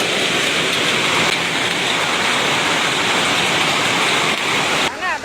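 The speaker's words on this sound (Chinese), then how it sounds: "太大了，这个冰雹" A loud, dense, continuous roar of egg-sized hailstones pounding down in a record hailstorm in Qingchuan County, Sichuan, heard up close and unbroken until it cuts off sharply near the end.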